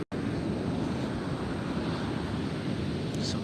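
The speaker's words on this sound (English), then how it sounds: "Ocean is roaring." Ocean surf roars as a dense, constant wash mixed with wind noise on the microphone, steady and loud throughout along a California shore.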